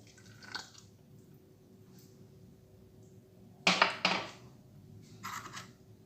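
Coconut oil is poured into a corn cake batter in a blender jar, heard as a couple of short wet splashing bursts that trail off into quieter drips, with a lighter splash a moment later.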